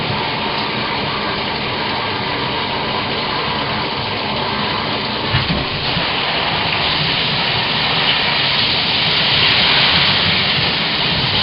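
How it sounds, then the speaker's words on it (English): Shower water sprays steadily onto a rain jacket and pants, a loud continuous hissing rush that stays even throughout and swells slightly near the end. "my new rain gear is to stand in the shower with it."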